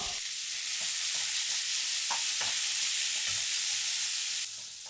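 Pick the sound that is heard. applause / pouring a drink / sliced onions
sliced onions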